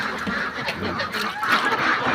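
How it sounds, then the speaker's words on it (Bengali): Ducks in a pen quack and honk loudly and continuously at close range, several birds calling over one another in a short noisy burst. "আমি আপনাদের হাঁসগুলো ভালো করে দেখাই। এই যে হাঁস"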